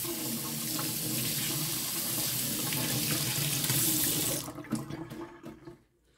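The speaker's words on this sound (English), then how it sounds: "Gotta wash my hands." Tap water runs loudly and steadily into a sink during handwashing, then shuts off, leaving a few faint drips and handling noises.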